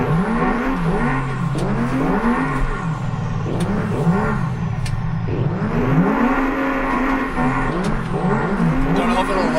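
Van engine in the driving game BeamNG, revving and drifting with repeated rising and falling engine sweeps and tire squeal, continuous and fairly loud under occasional speech.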